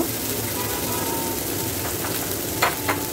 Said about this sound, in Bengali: পেঁয়াজ বাটাটা ভালো করে তেলের মধ্যে নেড়ে ছেড়ে ভাজা হয়ে গেছে।